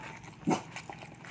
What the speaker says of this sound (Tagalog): Pasensya na kayo sa aso ko